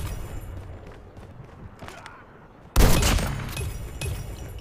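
In Call of Duty Mobile gameplay, a sniper rifle fires one sharp, loud shot after quieter game ambience, its report followed by a brief rolling tail and smaller mechanical sounds.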